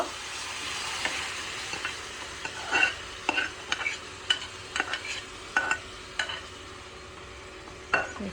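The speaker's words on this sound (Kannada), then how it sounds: "ಬೇಯಿಸಿರುವಂಥ ಕ್ಯಾಬೇಜ್ನ ಆ್ಯಡ್ ಮಾಡ್ತಾ ಇದ್ದಾರೆ ಇವಾಗ." Cooked cabbage being stirred into a pan for cabbage kootu, a series of close spoon scrapes and clinks against metal over a faint sizzle, in an irregular rhythm.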